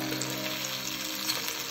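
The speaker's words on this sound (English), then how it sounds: "Pork belly, I'll flip it. Hear that sizzle." Pork belly sizzles steadily on a 2-in-1 KBBQ grill and hotpot combo, a close, continuous frying hiss with no talking.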